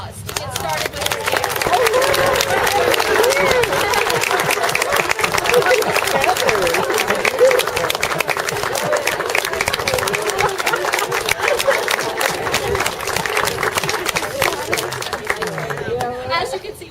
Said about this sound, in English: Milo needs a little applause to get started